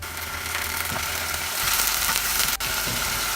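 Ginger garlic paste sizzles in a pan of chicken korma, a steady close hiss of frying with faint stirring scrapes throughout, a low hum underneath and a single sharp tick near the end, no one speaking.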